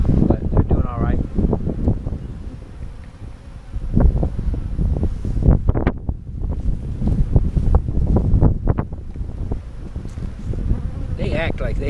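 Strong wind buffets the microphone beside opened beehives, a loud continuous rumble with bees buzzing through it for the whole stretch.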